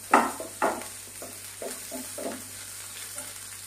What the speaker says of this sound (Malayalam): ഇനി അതിലേക്ക് നമുക്ക് ഈ ചെറിയ ഉള്ളി അരിഞ്ഞതും ഇട്ട് കൊടുക്കാം